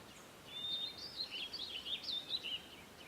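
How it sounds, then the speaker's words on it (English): Video game plains-level ambience of soft wind and birds chirping, with light, scattered high chirps and trills over a faint, steady breeze, played at low volume. "wind and birds chirping, nothing really crazy"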